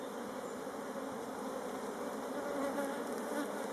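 A honeybee swarm being transferred from a nucleus box into a hive makes a steady, close, dense buzzing hum, with a few individual bees droning past, and no voices.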